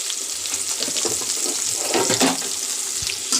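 Fish frying in a pan gives a steady, hissing sizzle throughout, with faint bubbling and scraping under it and no voices.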